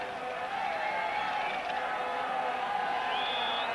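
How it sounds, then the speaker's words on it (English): A large football stadium crowd at the 1986 Mexico World Cup match between Uruguay and Scotland cheers and roars steadily while doing a Mexican wave, a dense far-off wash of voices with a few whistles near the end. "The crowd are enjoying it anyway. They're still doing their human wave here"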